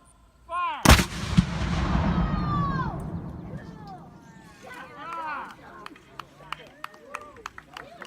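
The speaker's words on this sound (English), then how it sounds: "Gun number one! Fire!" Civil War howitzer fired by a light artillery crew: one sharp, loud blast with a long rolling echo, followed by faint outdoor chatter and scattered small clicks and knocks.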